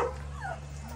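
A dog whimpers indoors, a few thin high whines sliding downward, close and fairly quiet over a steady low electrical hum, with no talking.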